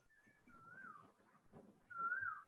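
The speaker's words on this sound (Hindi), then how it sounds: "बड़ी बढ़िया कोयल बोल रही है" A faint Asian koel gives a few rising whistled calls from a distance, with the last call the clearest, against a quiet background.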